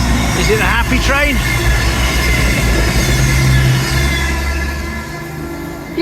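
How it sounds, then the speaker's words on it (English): Train rumbling past along the Teignmouth seafront, a loud steady roar of wheels and engine close by, with faint voices and a short tonal blip early on. "Now that was a happy train, gave us a lovely toot"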